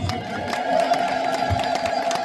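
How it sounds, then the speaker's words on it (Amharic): A church congregation ululates in praise at Abune Hara Dingil church in Ayat Tafo, a sustained high trilling chorus of many voices filling a reverberant hall at steady loudness. "እልል ብላችሁ አመስግኑ"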